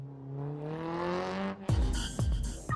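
A car engine cranks and catches, then revs hard in several loud, close bursts after a rising whine, part of a Spanish-language motoring radio promo.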